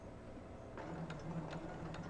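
A sewing machine runs steadily while stitching quilt seams, a soft continuous mechanical whir with faint ticking, quiet and close, with no talk.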